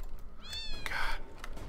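A cat meows twice in the video game Fowl Space: a rising, drawn-out meow, then a brighter, louder one. Both are clear and close against quiet background noise.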